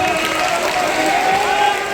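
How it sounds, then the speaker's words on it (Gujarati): A crowd at a public rally in Nadabet, attended by Chief Minister Bhupendra Patel, claps in a dense, continuous wash of applause, loud and sustained throughout, with a voice faintly audible within it. "જરા બે હાથ ઊંચા કરી તાળી ઉપાડો"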